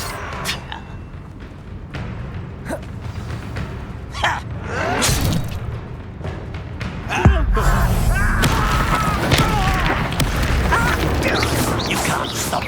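A Confringo fire spell from the Hogwarts Legacy video game bursts repeatedly in combat, with booming, crackling blasts and thuds over a constant rumbling game backdrop; a heavier impact lands around the midpoint, and voices are heard.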